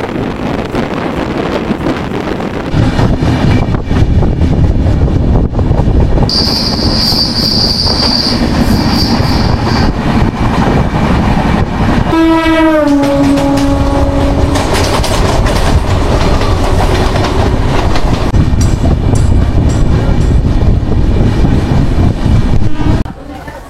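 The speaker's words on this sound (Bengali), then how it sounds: "এখনো পর্যন্ত ঠিক টাইমে চলছে ট্রেন।" The Tamralipta Express from Howrah to Digha running at speed, a loud continuous roar of wheels and rushing wind with clattering rail noise, a horn blast and sweeping metallic squeals partway through.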